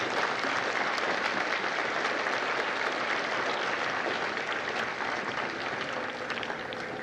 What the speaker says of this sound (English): please join me in a well-deserved round of applause for the drill instructors and the families of Delta